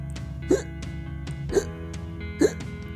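Three separate, sharp hiccups spaced about a second apart, each a short voiced gulp over a low steady background hum, close and moderately loud.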